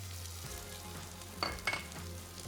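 Potatoes sizzle and fry in a pan alongside apple and oregano, a steady low crackle with a couple of brief louder stirring clatters midway.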